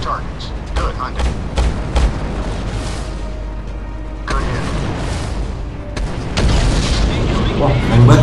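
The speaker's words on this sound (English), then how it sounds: "Wah, nembak ini pakai cannon." Cannon fire striking a target during an enemy base attack in the drone combat game Drone 2 Air Assault, heavy booms and blasts rolling under continuous game noise while someone talks over it.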